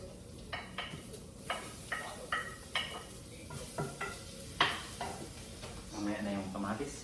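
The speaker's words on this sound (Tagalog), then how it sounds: "Gigisa natin yung luya, pabawang," Ginger, garlic and onion sautéed in a hot pan for pork hock sinigang, with a steady soft sizzle under a series of close, evenly spaced scrapes and taps of a spatula against the pan.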